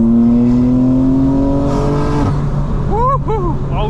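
A 2025 BMW M4 in all-wheel drive accelerating hard at night, its engine note climbing steadily through the revs with a loud close interior drone, then a shift and a short whoop of excited voice at the end.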